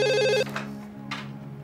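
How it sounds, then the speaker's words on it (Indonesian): A phone ringtone announces an incoming call, sounding loud and close as a brief melodic burst before it cuts off, followed by a couple of soft, quieter tonal swells. "ada telepon masuk"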